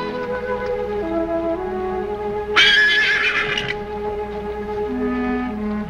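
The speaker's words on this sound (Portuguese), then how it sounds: "Os cavalos se assustaram." Frightened horses let out one loud, shrill whinny partway through a 1954 western film scene, rising sharply over a steady bed of orchestral score and then fading back into the music.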